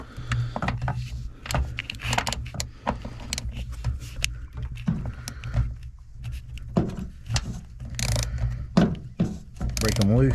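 A ratchet on a taped 3/8 Snap-on extension with a 13mm socket clicks in repeated rapid bursts while loosening bolts on a Chevy S10 during clutch master and slave cylinder work, close and sharp, with someone talking between strokes.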